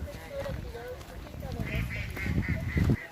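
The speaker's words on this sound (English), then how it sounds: "There we go, ducks." Ducks quack repeatedly at a moderate distance on a park pond amid outdoor ambience, with people talking nearby and some low handling noise.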